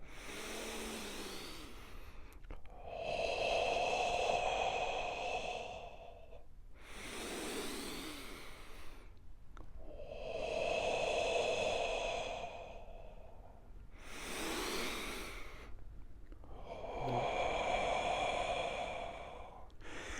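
A person breathes slowly and deeply through a guided breathing exercise, with long, airy inhales and exhales alternating in a steady rhythm, close to the microphone.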